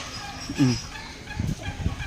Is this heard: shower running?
no